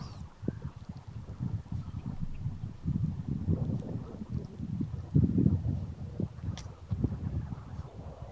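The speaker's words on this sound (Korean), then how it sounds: "세 번째 블록에서는 확실히 소음이 거의 없고 바람 소리 정도 들립니다." Wind gusts steadily across an empty residential building plot in a new housing district, a low, continuous rumbling buffet with uneven surges and no voices.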